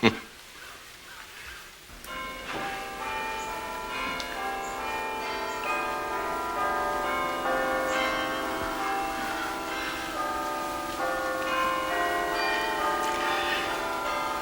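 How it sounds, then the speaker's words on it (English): Church bells ring continuously with rich, overlapping tones, swelling and layering over several seconds after a brief quiet opening; no talking. "The bells. My husband used to love the bells. You can hear them so well from here."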